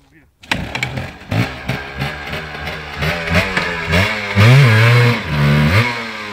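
Off-road vehicle engine on Lulin Mountain starts loud and close, then revs again and again in rising and falling surges before a sustained high-throttle roar, while people talk.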